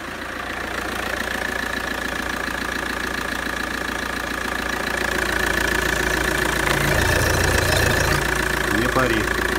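Fiat Doblo 1.9 JTD diesel engine idling steadily with a clattering rumble, growing slightly louder partway through while a person talks over it.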